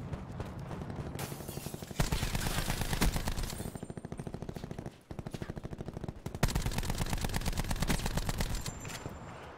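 Automatic gunfire from a video game weapon, rapid, evenly spaced shots in several long bursts separated by brief pauses, loud and close.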